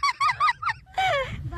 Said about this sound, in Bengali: এই দেখো কত হাঁস